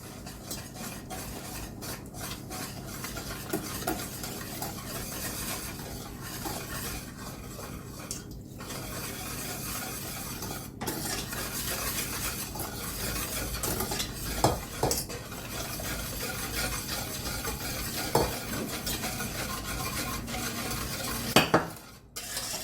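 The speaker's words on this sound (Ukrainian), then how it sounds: "І так по чуть-чуть струйкою буду вливати і помішувати." Steady whisking in a bowl as hot milk is poured in a thin stream into eggs and sugar, a continuous swish with occasional clinks of utensil against the side, close and fairly loud.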